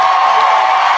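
A live audience at a podcast show in Austin cheers and whoops steadily, a loud continuous roar of crowd noise with no break across the whole moment.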